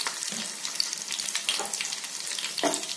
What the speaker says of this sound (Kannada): ಚೆನ್ನಾಗಿ ಫ್ರೈ ಮಾಡ್ಕೊಳ್ಬೇಕು ಈ ಮಸಾಲೆ ಪದಾರ್ಥಗಳು.